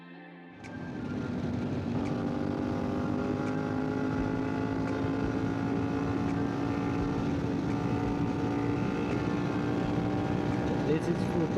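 A CFMOTO 450MT motorcycle with a remapped ECU at full throttle, the engine note climbing steadily into a sustained drone heard from on the bike, with a rider's voice faintly mixed in.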